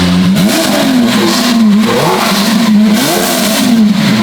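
A Lamborghini SVJ with a Gintani F1 exhaust, valves closed, revs loudly up close in several sharp blips that rise and fall in quick succession over a low engine drone.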